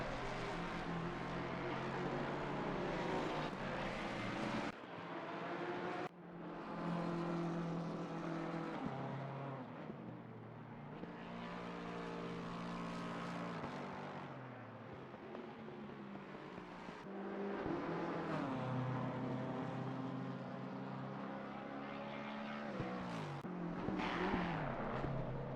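Race cars, among them two generations of Aston Martin Vantage, circle the Red Bull Ring in a CPL World Series race, engines droning and rising in pitch continuously as cars pass, with brief dips between passes and no talk.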